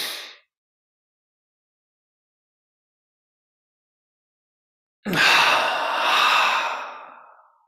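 A deep breath drawn in during a guided meditation session, a long airy inhale that swells and then tapers off slowly, heard alone in a quiet room after a brief trailing exhale at the start.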